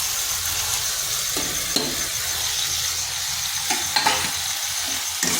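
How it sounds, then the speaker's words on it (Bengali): Potatoes and pointed gourd sizzle steadily as they fry in spice paste, with a few brief stirring scrapes breaking through the close, continuous hiss. "আলু পটলটাই মশলার সাথে একটু কষে নেব,"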